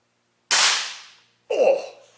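A Hatsan Flash QE .22 air rifle fires: one sharp, loud crack that fades over most of a second, then a second shorter burst follows about a second later, with no voices.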